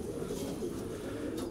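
Racing pigeons coo in a loft, a steady low murmur of overlapping calls from several birds that carries on throughout with no talk.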